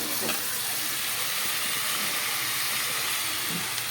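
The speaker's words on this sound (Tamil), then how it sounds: "தக்காளி போட்டு நல்லா வணக்கணும்." Tomatoes sautéed in a hot pan for a crab curry, a steady close sizzle and hiss of frying that runs evenly throughout with a faint clink of stirring.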